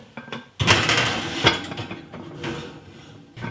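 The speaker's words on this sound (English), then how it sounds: "now I'm going to transfer this to the oven for about 20 minutes" A pan slid into a home oven, a close metallic clatter and scrape of the pan on the rack followed by a softer knock as it settles, with no talking.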